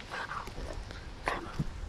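Small dog making a few soft, close whimpers and yips, faint and brief, with light rustling around it.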